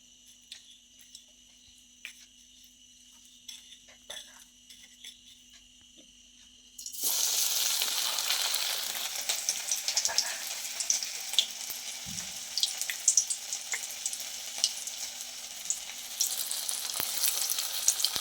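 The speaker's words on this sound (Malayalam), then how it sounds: "ഇനി ചിക്കൻ നമ്മുടെ ബിസ്ക്കറ്റ് ക്രംസിൽ മുക്കി എണ്ണയിലോട്ടിടാം." Chicken pieces dipped in biscuit crumbs drop into hot oil, setting off a sudden loud, steady frying sizzle that carries on close up after a quiet start.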